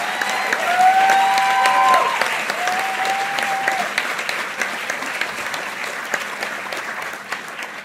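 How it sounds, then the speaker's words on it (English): Audience applause for the nurses at a hospital honors and awards evening, steady clapping across the room that stays loud and fairly even before easing slightly toward the end, with a brief whistle-like tone near the start. "please give them a big round of applause."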